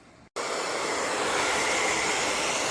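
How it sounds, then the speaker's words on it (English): A blow dryer switches on and blasts loudly and steadily as it dries paint on a canvas, a constant close roar following a brief moment of quiet. "I want to help it dry a little bit faster so I can see where I'm at and what I want to do next. So blow dryer"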